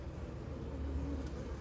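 Honeybees hum at an open hive during an early May inspection, a steady low drone that holds at a constant level throughout.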